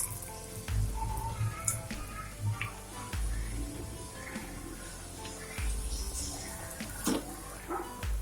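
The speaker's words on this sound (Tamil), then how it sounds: "நம்ம இப்போ பஜ்ஜி போட்டுடலாம்." Bread bajji fry in hot oil in a kadai, a continuous close crackling sizzle with occasional low thumps and pops, heard alone without talk.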